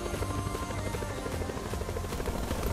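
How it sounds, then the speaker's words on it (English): A helicopter in the video game Call of Duty Blackout drones steadily with a rapid rotor chop and engine whine, loud and close, with no talk over it. "can we even fly with this helicopter"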